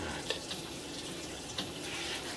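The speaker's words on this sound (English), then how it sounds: "I'm going to turn the water off" Water runs steadily from a tap with a soft hiss, punctuated by a couple of small splashes or clinks.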